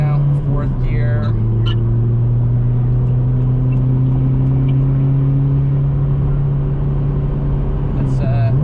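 A turbocharged K20 engine in an 8th-generation Honda Civic Si hums steadily in fourth gear at a constant pitch, close and loud, with a brief dip in tone near the start and again at the end.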